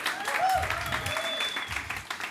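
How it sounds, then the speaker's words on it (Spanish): A church audience claps in sustained applause through the whole moment while a voice talks over it and faint whistles rise above the clapping. "Un aplauso para Simon"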